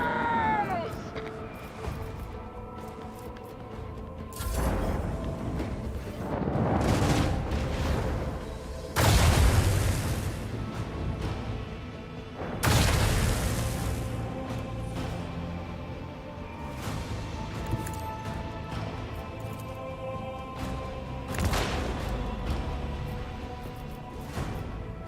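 Torpedo barrage explosions from a space battle in the video game Warhammer 40000 Rogue Trader: several heavy, deep booms land a few seconds apart over a continuous dense battle backdrop.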